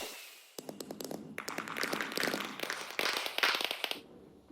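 Fireworks in Minecraft pop and crackle in a dense, irregular burst of sharp bangs and sizzling trails that build and overlap before fading, with no talking.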